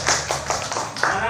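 A classroom of students clapping for group 3, a short burst of several sharp, rhythmic claps close by, with a voice speaking over them.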